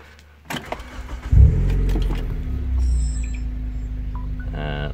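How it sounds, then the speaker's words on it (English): A car's ignition is switched on, with a click followed by a steady low hum from the vehicle electrics and a faint whirr, close and moderately loud with no talking. "As soon as I turn the ignition on"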